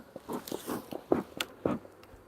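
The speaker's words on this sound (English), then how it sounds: "There was a bee fight." Honey bees fighting at the hive entrance make irregular short buzzing bursts and scuffling clicks. The sounds are close and fairly quiet, with no voices.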